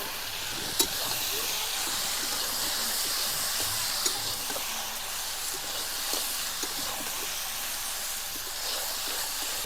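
Cauliflower and potatoes sizzle steadily in oil-rich spice masala in a home village kitchen, a constant close frying hiss with a few faint stirring clicks and no talk.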